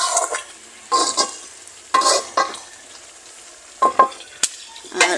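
Fresh canal fish frying in a pan in a village kitchen, with bursts of sizzling spatter and scraping strokes separated by quieter gaps, fairly close.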